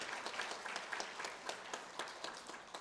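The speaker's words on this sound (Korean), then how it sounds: "환영의 박수로 맞이하죠" A church congregation at a Sunday worship service gives welcoming applause, a steady, faint patter of many hands heard from a distance, with light voices mixed in.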